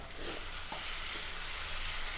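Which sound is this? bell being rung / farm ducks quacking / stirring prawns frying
stirring prawns frying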